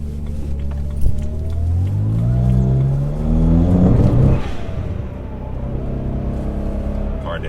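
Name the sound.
N54 engine car accelerating on MHD beta tune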